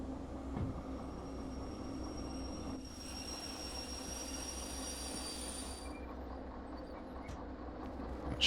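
A locomotive in the Derail Valley train simulator rolls along steadily with a constant low rumble of wheels on rail, joined by a high metallic squeal for a few seconds midway.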